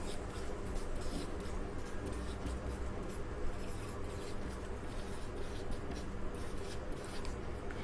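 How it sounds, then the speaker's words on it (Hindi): Pen or pencil writing by hand on paper, a steady continuous scratching and rubbing, close up and fairly loud with no pauses or voices. "5 के मैं टेबल लिख देती हूँ।"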